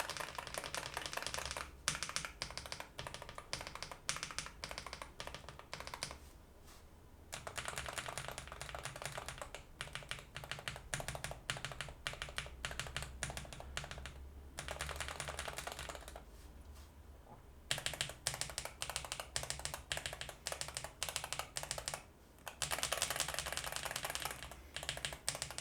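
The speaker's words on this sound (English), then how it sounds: "here is a quick sound test between all the three switch options" Typing on a modded Wooting 80HE keyboard, comparing three switch options: rapid, dense keystroke clatter comes in several separate bursts, with short quiet gaps as each switch set is tried, close-up and with no voices.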